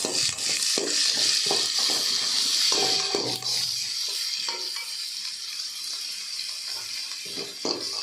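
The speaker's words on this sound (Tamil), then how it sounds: "வெங்காயம் போட்டுட்டு தேவையான மிளகாய் போட்டு நல்லா வணக்கி விடணும்" Onions and chilies sautéing in hot oil with popped mustard seeds in a pan, a steady bright sizzle running throughout with repeated scraping stirs, fairly close and loud, no talking.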